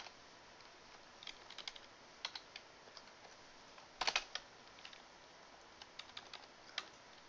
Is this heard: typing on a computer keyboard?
yes